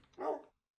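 A single short dog bark from a Minecraft dog, clear and fairly close, then silence.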